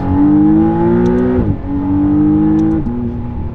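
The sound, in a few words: McLaren Artura engine accelerating at 50% throttle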